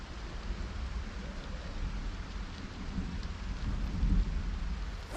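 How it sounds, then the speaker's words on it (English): Loud, steady downpour with rolling thunder rumbling underneath in a Project Zomboid-style survival game set in Ekron, continuous dense wash with a heavier swell near the end. "Really loud rain."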